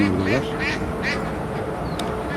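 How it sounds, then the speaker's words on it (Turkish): Several ducks quack in short nasal bursts at moderate distance, with a person talking over them outdoors. "Görmüş olduğunuz gibi ördekler de hepsi aşağıdalar."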